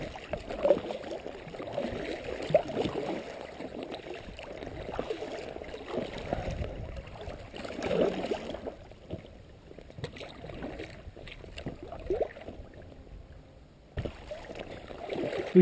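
A slim packraft glides along the Radolfzeller Aach river in fog, giving soft steady water swishes and gurgles with paddle splashes, close and fairly quiet, easing off briefly near the end.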